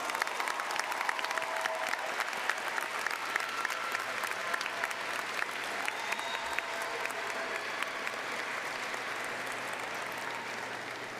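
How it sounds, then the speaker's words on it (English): Sustained applause from a graduation commencement audience honoring teachers and staff, a steady, dense crowd of clapping in a large hall that holds for several seconds and fades slightly toward the end. "let's give our staff members a round of applause."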